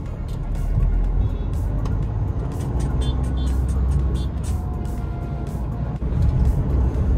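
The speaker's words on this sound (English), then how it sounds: "moving traffic." Moving road traffic in Bangalore: a steady rumble of cars and heavier vehicles rolling past, with repeated short horn honks and engine drone close by, and no talking over it.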